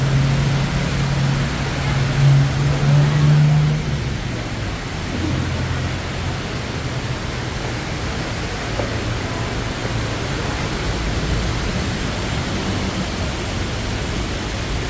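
Steady heavy rain pours down in Bangkok, a dense, constant broadband hiss that lasts the whole time. A low hum like engine or traffic rumble sits underneath it, and it is loudest near the start.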